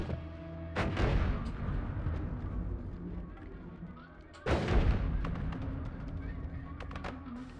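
Two deep, booming bomb explosions from the video game Noita, one near the start and one midway, each a heavy thump followed by a long crackling rumble that fades slowly over a continuous noisy background.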